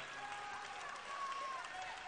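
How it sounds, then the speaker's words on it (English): Powerlifting crowd at a women's 72kg world classic championship meet, cheering and applauding in a steady, dense wash of noise from a large audience, with a commentator talking over it throughout. "people are on their feet cheering right now"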